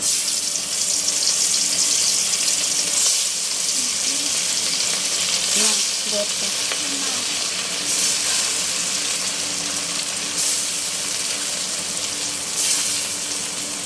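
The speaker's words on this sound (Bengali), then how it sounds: "সরিষার তেল দিয়ে দিছি, মাছগুলো ভেজে নেব।" Fish sizzles steadily as it fries in mustard oil in a home kitchen, a continuous crackling hiss with occasional louder pops and a few faint clinks of utensils.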